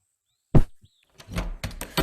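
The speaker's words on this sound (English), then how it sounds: "let's open the door and let's get going" A door sliding open in the Harvest VR farming game, a single short scrape followed by a brief creak and soft thuds of movement, close and clear with no voices.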